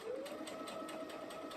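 A sewing machine runs steadily at close range, its needle ticking in a fast, even rhythm over a continuous motor whine.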